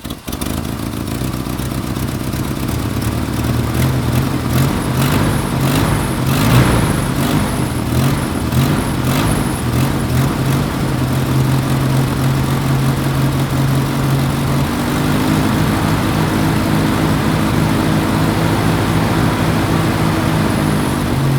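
A Jeep Comanche MJ pickup, started after sitting through winter, idles loudly and steadily with a lumpy, loping rumble and clattery mechanical noise, running continuously without speech.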